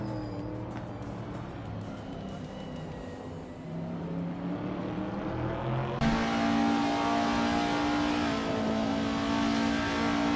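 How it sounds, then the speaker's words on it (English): A 1968 Pontiac Firebird race car in a racing video game, with engine drone rising and shifting, then a sharper, louder revving pitch partway through, plus tire noise. "Basket and Fee is driving a 1968 Pontiac Firebird"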